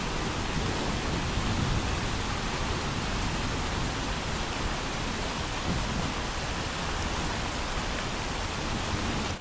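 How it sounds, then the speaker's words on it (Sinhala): Ambient rain loop plays as an unbroken, even wash of falling drops, a soft, full hiss with a faint low rumble and no voices. "වැස්සක ශබ්දය අහන්න කැමති නම්"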